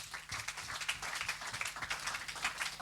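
Congregation applauding during a church service: a faint, steady patter of many hands clapping continuously, with no voices standing out.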